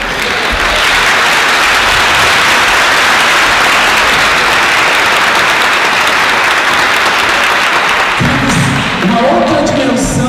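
Loud, sustained applause from a large crowd at a church worship gathering, steady clapping for about eight seconds before thinning out as it ends.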